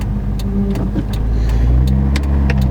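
A Toyota AE82 Corolla with a 4AGE engine hums steadily while driving, heard from inside the car as a continuous mid-pitched drone with a few faint clicks and rattles.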